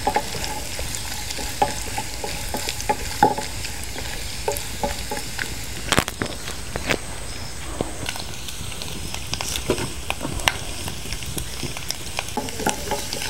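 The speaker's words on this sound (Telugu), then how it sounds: "ఈ గోల్డెన్ బ్రౌన్ కలర్ వచ్చే వరకు ఫ్రై చేసుకోవాలి, కొబ్బరి అంతా పచ్చి వాసన పోయే వరకు." Grated coconut fries in a pan for sweet chakkera pongali, a continuous sizzle under the scraping and clinking of a spoon stirring until the coconut turns golden brown, with small taps throughout.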